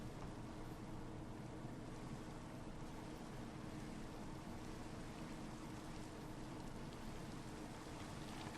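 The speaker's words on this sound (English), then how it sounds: "And it's raining" Steady rain falling in a fantasy video game, a dense, even hiss of drops on surfaces with a low rumble beneath, continuous and unbroken at moderate distance with no voices.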